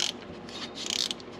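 A socket ratchet turns a bolt on a Jeep TJ Wrangler's automatic transmission kickdown adjustment, giving brief, faint rapid clicking close by.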